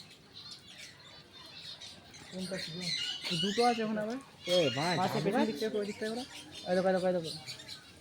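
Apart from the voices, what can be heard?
birds calling in coconut tree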